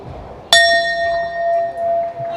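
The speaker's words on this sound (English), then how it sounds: "that is the bell for round number 4 of this ABF Welterweight title fight" A boxing ring bell strikes once at a welterweight title fight in Bangkok, a sharp bright clang that rings on with a long, slowly fading tone over quiet arena murmur.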